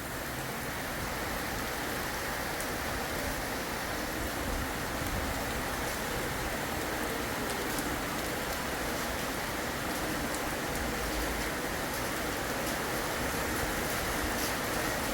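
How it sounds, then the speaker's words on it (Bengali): Heavy rain falls in a steady, even hiss of dense drops on surfaces under a dark sky, unbroken from start to finish with no voices. "দেখো কত বৃষ্টি আসছে।"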